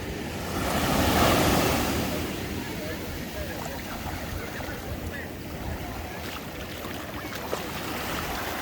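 Ocean surf on a beach at Manuel Antonio, Costa Rica, a loud continuous wash of waves with wind, while people talk over it.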